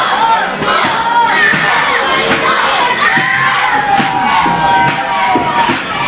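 Crowd of children at a wrestling show cheering and shouting for wrestler James Wolfe, loud and continuous, with high-pitched yells and chanting voices layered over a busy arena din and occasional thuds.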